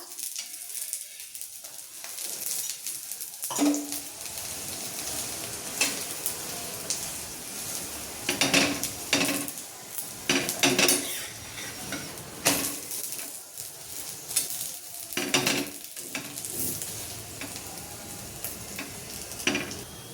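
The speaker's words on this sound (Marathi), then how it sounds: "दोन्ही बाजूनी तूप छान टाकून भाजून घ्यायचा" Potato paratha roasting in ghee on a hot griddle, flipped to cook both sides, giving a steady soft sizzle with scattered crackles and occasional scraping or pressing sounds, close and unaccompanied by talk.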